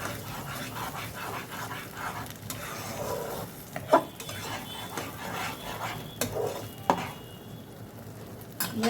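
Salt and spices being stirred into pieces of katla fish in a pan for a doi katla curry, a steady scraping and sizzling with a few sharp spatula knocks against the pan at moderate volume.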